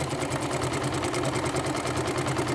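A sewing machine quilts back over the top of a shadow-triangle quilt block, a close, loud, steady rapid needle hum running without pause and with no voices.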